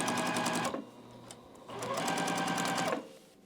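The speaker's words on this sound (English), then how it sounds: "I'm going to sew down this edge, grab my next piece, place it where it needs to go," A sewing machine stitches down a quilt edge in two steady, close whirring runs with a short quiet pause between them.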